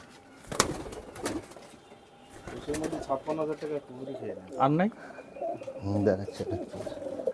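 Pigeons in an Indian pigeon loft, including prized male and female birds of breeds such as tippler, give soft rolling coos close by, with wing flutters and people talking throughout.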